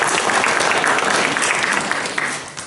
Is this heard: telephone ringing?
no